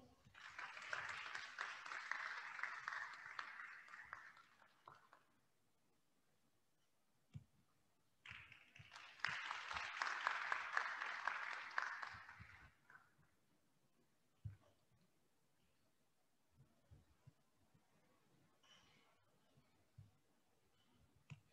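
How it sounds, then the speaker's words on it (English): Two bursts of applause from a crowd, each lasting a few seconds, separated and followed by quiet stretches with occasional clicks and taps. "Give this row a round of applause."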